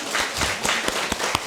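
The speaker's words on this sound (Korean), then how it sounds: "착한 우리 성도들 박수 한번 해야 되겠죠?" A church congregation at a Friday prayer meeting claps briefly, a short burst of scattered individual hand claps at moderate distance.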